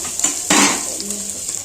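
Utensil scraping and clanking against a cooking pan while food sizzles faintly underneath, with one louder metallic scrape in the middle, heard close and without talk.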